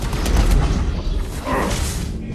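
A missile blast in the video game Mass Effect 3 booms loud and close amid a continuous roar of battle, with a second swell of noise near the end and no talking.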